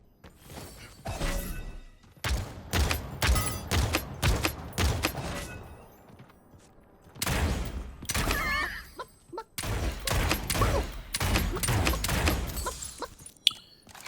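SMG gunfire in the Realm Royale Reforged battle royale shooter, fired in rapid bursts separated by brief pauses, loud and close, with clattering impacts.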